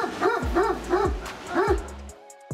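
A large shepherd dog barks in a rapid series of four deep, close woofs, each followed by a short gap, ending in a brief pause.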